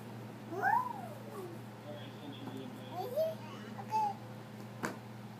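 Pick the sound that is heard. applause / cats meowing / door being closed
cats meowing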